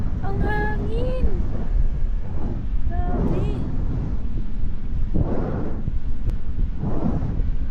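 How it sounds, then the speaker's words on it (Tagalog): Strong wind buffets the microphone in a steady low roar while people talk over it. "Ang hangin."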